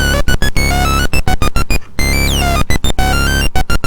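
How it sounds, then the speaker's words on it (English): Buzzy tones from an Analogue Solutions Cranial Saw analog synthesizer with raised modulation depth stutter in a fast, choppy pattern, pitches jumping and sweeping between short bursts and brief gaps. "I raise the modulation depth."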